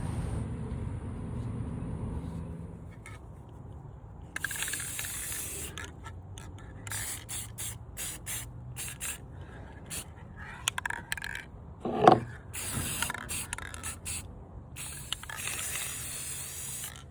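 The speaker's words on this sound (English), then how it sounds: "so I'm going to do the spray on it to preserve it" Repeated hissing bursts of an aerosol sealant spray onto a turtle decoration, short and close, with pauses between sprays and some faint scraping handling noise.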